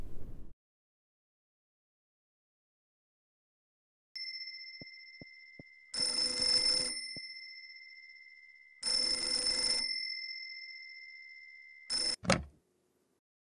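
A telephone rings in the video game Mermaid Swamp as a bright, tonal bell in three separate bursts with a quick final chirp, fairly faint, after some short clicks and with no one talking.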